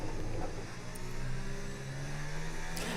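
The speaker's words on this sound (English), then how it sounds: "can you hear my voice over the sound of the Formula One car?" A Formula One car engine in the F1 25 video game, a steady high-pitched whine with a rising note, fairly loud and continuous, with no voices over it.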